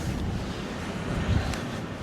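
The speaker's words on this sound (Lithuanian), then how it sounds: "Vėjai pučia." Strong wind blusters across a microphone outdoors beside a truck and trailer in cold Norwegian weather, a constant rough low rumble with a brief gust swell, no voices.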